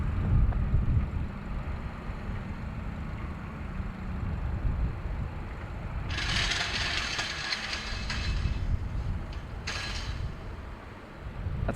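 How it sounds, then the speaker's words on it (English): Catering trolley rocking and rattling inside an ATR aircraft, bursts of clattering metallic rattles over a steady low cabin rumble, with a second brief burst near the end. "That's the catering trolley rocking around in the ATR."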